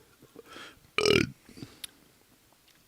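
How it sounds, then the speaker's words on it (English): A single loud burp rises out of near silence, short and throaty, with faint small noises around it. "Listen to us burp."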